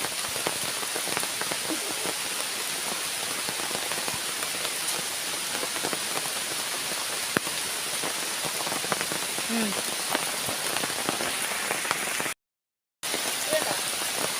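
Steady rain patters continuously on a surface, an even hiss of drops with a brief cut to silence near the end.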